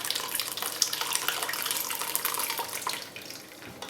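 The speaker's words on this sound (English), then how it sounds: "So now pour a little bit of the soup in the sieve" Chilled sweet corn soup made with coconut milk pours steadily into a medium mesh sieve, a continuous close splashing trickle that eases off slightly toward the end.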